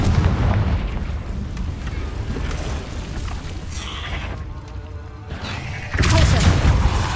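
A Confringo blasting spell in Hogwarts Legacy erupts as heavy booming explosions, loud and rumbling at the start, dipping briefly, then another forceful blast near the end.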